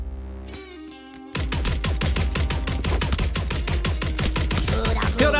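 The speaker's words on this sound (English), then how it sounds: "Somebody shooting at me." Rapid automatic gunfire in the video game Blankos Block Party, first a short quieter burst, then a loud sustained stream of evenly spaced shots that runs to the end.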